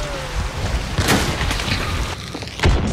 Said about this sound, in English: That was a good nade.